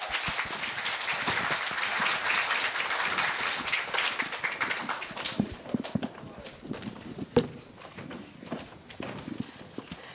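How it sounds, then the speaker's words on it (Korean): An audience at a Korea University middle school speaking festival claps for past award winners, a broad wash of applause that is fullest early on and thins into scattered claps later. "전대 수상자들에게 모두 큰 박수 부탁드립니다"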